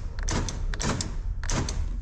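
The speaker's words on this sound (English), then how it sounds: "door locks function now" Power door locks actuating on a Ford Powerstroke 6.0 diesel truck, three quick mechanical clunks spaced across a couple of seconds, close and fairly loud over a steady low hum.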